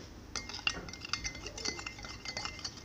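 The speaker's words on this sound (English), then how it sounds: "you will need to quickly mix it using the utensil" A utensil quickly stirs a borax slime mixture in a container, giving quiet, irregular clinks and scrapes in a soft, rapid rhythm.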